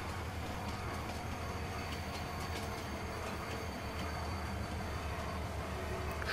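A train in Farming Simulator 19 rumbles steadily with a continuous low roll and faint wheel clatter, an even, unbroken drone that lasts throughout with no one talking.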